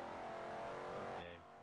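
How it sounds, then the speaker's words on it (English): Car engine droning at speed in the Forza racing video game, a steady sustained motor tone that drops in pitch and level as it eases off near the end. "Driving all our cars as fast as we can all the way down here to the end of the earth"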